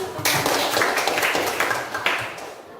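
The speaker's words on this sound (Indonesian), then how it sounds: "Tepuk tangan." A class audience claps hands after a group presentation on Christian youth in society, a short burst of many close claps that fades out.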